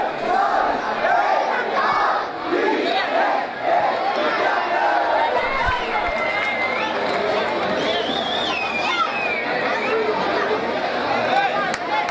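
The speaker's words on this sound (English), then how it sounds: "We do have a lot of cheering" Spectators at a school rugby match between two rival schools keep up a steady roar of cheering and shouting, with dense, continuous crowd noise throughout.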